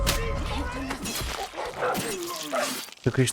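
In the video game Far Cry New Dawn, a dog gives a few short barks and whimpers beneath someone talking over game sounds.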